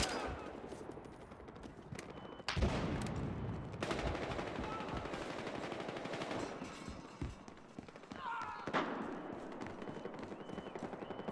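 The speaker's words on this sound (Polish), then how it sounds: "Strzelaj, strzelaj. Strzelam!" Gunfire in the Black Ops III game: rapid bursts of automatic weapon fire mixed with sharp single shots and loud blasts, dense and continuous throughout.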